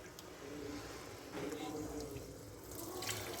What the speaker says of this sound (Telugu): ఇందులోనే మనం మితంగా వాటర్ కలుపుకునేద్దాం.